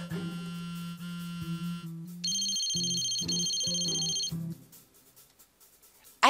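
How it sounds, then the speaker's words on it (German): An incoming-call phone ringtone in the video game Sally's Salon plays on its own as a bright electronic melody of steady repeating tones, then cuts off and falls quiet. "Eingehender Anruf von Kimberly, nicht Beverly."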